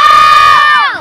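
Children shout together in a loud, sustained group yell during a jump game, the cheer holding steady for about a second before its pitch slides down and fades at the end.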